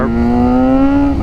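A Suzuki GSXR 600 sport bike engine revs up loud and close, its pitch rising steadily over one continuous, sustained pull with a rich harmonic whine.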